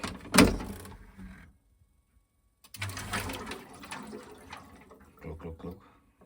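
Water refilling a boiler central-heating system after the pressure is topped up, heard as a close sputtering, gurgling rush of flow that starts, stops for a moment and then goes on, with faint talk now and then.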